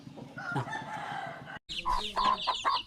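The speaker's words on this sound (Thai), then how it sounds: "ไก่" Chickens cluck and a rooster crows close by on a village farm in Laos, with repeated calls and a brief gap midway, loud against outdoor background noise.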